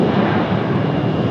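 An Airbus A319 airliner arriving from RDU touches down with a steady, loud roar of engine and rushing air that continues without a break.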